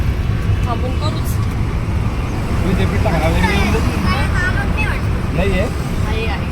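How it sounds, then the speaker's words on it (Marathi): Riding in an auto rickshaw through city traffic in Sambhajinagar, a constant engine and road rumble with passing vehicles and horns, with people talking throughout. "आता आम्ही रिक्षामध्ये आहे"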